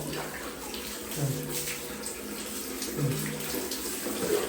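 Water runs steadily from a tap at a beach campsite while sand is washed off a body. A soft, continuous splashing flow sounds close by, with a few faint knocks.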